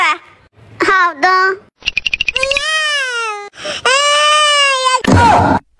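A little boy cries close by in loud, long, wavering wails broken by sobbing catches and short gasps, growing more intense toward the end.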